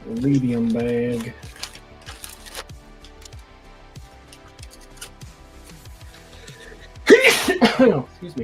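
A single loud, explosive sneeze bursts out near the end, preceded by a quieter stretch of faint clicks, taps and small tool noises, with a voice murmuring at the start.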